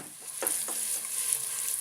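Fish curry ingredients fry and are stirred in a pan, a soft steady sizzle broken by a few scraping stirs, heard close with no talk.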